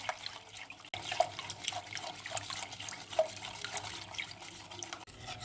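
Two cups of water pour into a pot for a lemon biscuit dessert, a soft, steady splashing trickle at low level that runs for several seconds with a couple of faint clinks.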